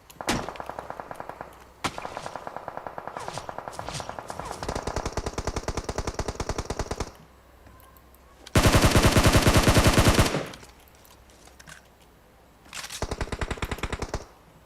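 Automatic-weapon fire in the mobile battle-royale game PUBG Mobile: long rapid bursts, loud and close, with a short gap, then an even louder sustained volley and a final burst.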